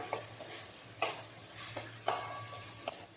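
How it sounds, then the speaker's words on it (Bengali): Gobindobhog rice being stirred with spices in a pan, a soft sizzle broken by several distinct scraping strokes of the spoon at irregular intervals. "এবার এই মশলার সাথে গোবিন্দভোগ চাল ভালোভাবে একটু নেড়ে নিতে হবে"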